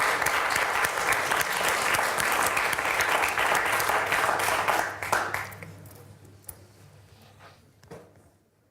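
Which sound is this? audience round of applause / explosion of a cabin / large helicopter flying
audience round of applause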